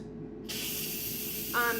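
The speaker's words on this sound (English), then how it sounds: "We're going to open the pressure valve and let all that steam out." An Instant Pot pressure valve is opened after cooking ham, releasing a sudden, steady hissing rush of steam that stays loud for over a second.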